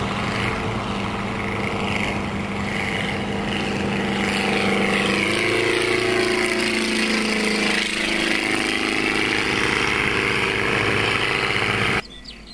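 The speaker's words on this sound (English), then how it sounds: "If it weren't for the throaty engine noise and the somewhat larger than normal size, this could be mistaken for a model aircraft." Lobet Ganagobie light aircraft running its throaty engine at a steady drone, pitch shifting as it moves, loud and close, cutting off abruptly near the end.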